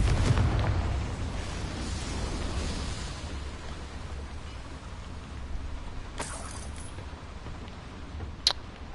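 The Confringo fire spell in the Hogwarts Legacy video game goes off with a loud boom that rumbles and fades over several seconds, followed later by a brief sharp crackle.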